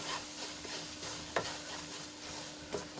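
Soft scraping and stirring of a gram flour and milk mixture for mohanthal in a pan over a low flame, with a faint sizzle underneath, marked by a couple of sharper utensil clicks.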